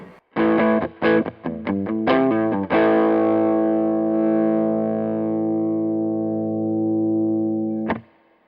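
A distorted electric guitar on the neck pickup through a JHS Bonsai Tube Screamer-style overdrive pedal plays a quick run of notes, then lets a thick overdriven chord ring out and fade before a final short hit.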